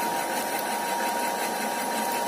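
An electric water pump runs after a new seal has been fitted, giving a steady mechanical hum with a fine rattling buzz, constant and even for the whole stretch.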